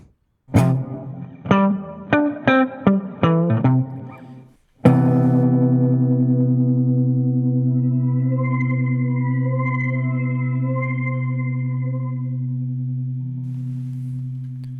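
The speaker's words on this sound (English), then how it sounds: "I do like using the shimmer reverb as well" Electric guitar plucks a quick run of notes, then strikes a chord that sustains and swells with a bright, shimmering octave-up reverb wash from a shimmer reverb pedal.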